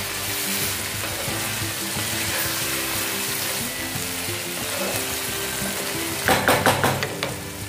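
Chickpeas tossed with masala roasting in a pan for a chana and poi sabji: a dense, loud continuous sizzle close up, with a short burst of clattering stirs near the end and no speech.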